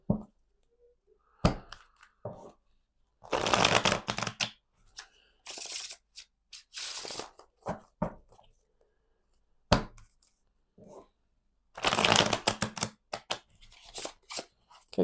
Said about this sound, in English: Just going to shuffle a bit more.